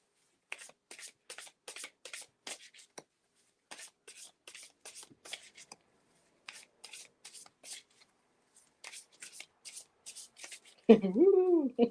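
Tarot cards from a Sacred Feminine deck being shuffled by hand, a steady run of quick riffling bursts with short pauses, close and fairly soft, ending in a brief voice.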